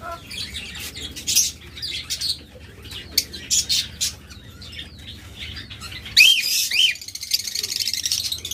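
Pet lovebirds and cockatiels chirp and whistle in bright bursts, a flock of several birds calling near and loud with a steady low hum underneath and a sharper flurry of calls toward the end.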